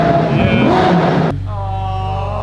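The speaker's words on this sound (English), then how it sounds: "Rev it, rev it." Ferrari race car engine revving loudly up close, a harsh roar that suddenly drops to a steady lower idle hum partway through.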